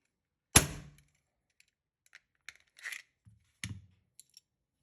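A single sharp crack of an MP-654K air pistol shot rings out near and loud, followed by a few faint clicks and light mechanical handling sounds.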